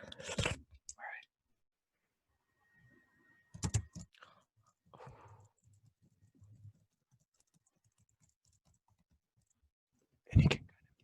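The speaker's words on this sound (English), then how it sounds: "I'm gonna start tapping on my keyboard" A few sharp bursts of close computer keyboard tapping, separated by long quiet gaps and faint murmuring.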